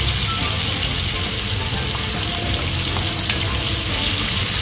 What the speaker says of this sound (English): get the water coming out of those bell peppers as we're searing them